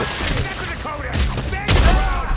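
Gunfire from a weapon in the sci-fi horror video game Dead Space 3, with bursts of blasts and booming impacts, the loudest around the middle and end, under a voice talking.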